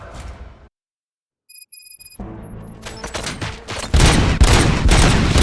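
Gunfire in the video game RoboCop: Rogue City, beginning after a brief silence and a few electronic tones, then building into dense, loud, rapid volleys of shots.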